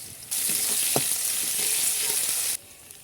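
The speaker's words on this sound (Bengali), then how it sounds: "এবার পেঁয়াজটা একটু হালকা করে ভেজে নেব" Onions and garlic paste frying in a pan for khesari dal, a loud, even sizzle that starts abruptly, holds for about two seconds and then cuts off.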